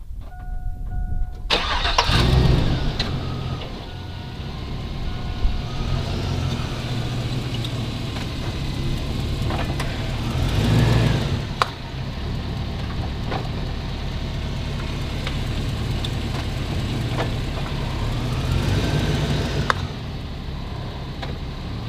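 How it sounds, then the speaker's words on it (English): A truck engine near an AK magazine, a U.S. Palm "Alien Green" polymer mag, starts, revs and then runs at a steady rumbling idle, loud and close, with a few swells in revving and no distinct crunch. "let's run it over with the truck"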